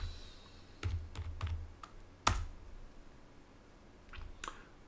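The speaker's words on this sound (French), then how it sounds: "je lui tape le mot de passe qui me convient" A password is typed on a computer keyboard: a few sparse, close key clicks with one sharper strike in the middle, over a quiet room and with no talking.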